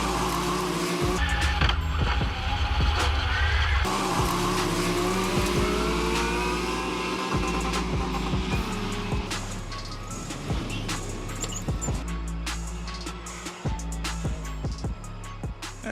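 A BRP Maverick 1000 Turbo and a custom 2-litre K20 230hp buggy race on a track, engines roaring and revving loudly with gear changes, rising and falling pitch, and bursts of tire noise throughout.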